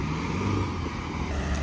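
SUV engine idling and running off-road with four-wheel drive engaged, a steady low rumbling drone close by for under two seconds, without speech.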